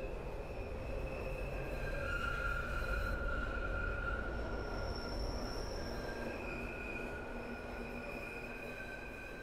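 Bakerloo Line underground train in Train Sim World 3 braking into a platform, with sustained metallic wheel squeal in shifting pitches over a low rumbling rail drone.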